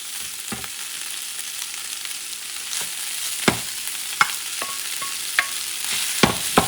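Cooked rice frying and being stirred in a cast iron pan: a steady hiss of sizzle runs throughout, broken by several sharp scrapes and clacks of the utensil against the iron at irregular intervals.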